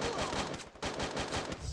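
Gunfire in the video game Free Fire sounds as rapid automatic bursts of shots, loud and dense, with a brief gap in the middle before the firing resumes.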